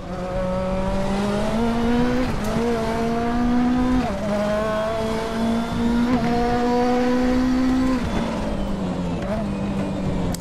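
Turbocharged Nissan Silvia Turbo Group 5 racer at Zolder in the RaceRoom game, engine droning steadily with pitch dips as it brakes hard with locking tyres, continuous and loud with a voice talking over it.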